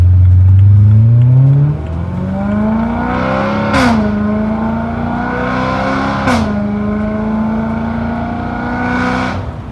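A BMW E92 M3 with a catless X-pipe exhaust and its valves open accelerates in light pulls, a loud, close, rising engine drone broken by two brief gear-change dips and climbing to a raspier pitch, with no talking.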